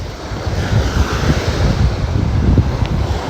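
Ocean surf breaking and washing up on a sandy beach, a steady rushing wash of water with wind buffeting the microphone, close and fairly loud with no voices.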